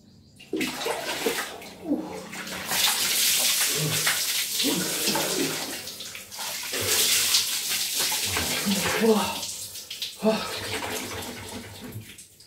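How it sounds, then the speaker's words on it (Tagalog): Water splashes and pours steadily during a bath at home on a hot day, close and continuous, with a person talking briefly over it. "Ligo lang ako guys."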